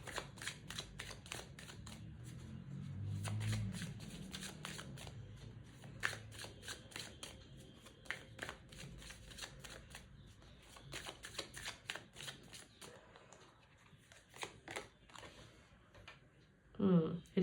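Tarot cards shuffled by hand at close range, a soft continuous riffling and flicking with steady rapid clicks, fairly quiet throughout and ending in a brief louder rustle.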